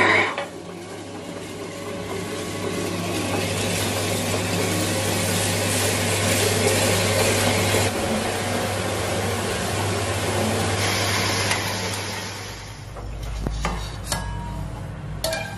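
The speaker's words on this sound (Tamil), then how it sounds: "இப்ப கிரைண்டர் வச்சாச்சு, நம்ம மாவு அரிசி போட்டுடலாம்." A wet grinder runs with a steady low hum while grinding soaked rice into batter, its drum and stone churning continuously and close by with faint scraping and clinking, then winding down near the end.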